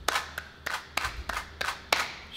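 Six sharp hand claps at an even, steady pace, crisp and close, with nothing else in between.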